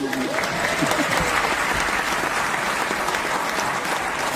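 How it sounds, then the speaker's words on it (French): A crowd applauds at a live comedy show, with dense, continuous clapping at steady loudness throughout and faint voices mixed into the crowd noise. "Applaudissez les talents de ma femme."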